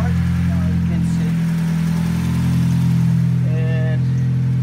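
A Mitsubishi 2G Eclipse engine runs steadily with a smooth mid-pitched idle hum, close and continuous, while the car is smoking from the engine during a rack and pinion replacement project.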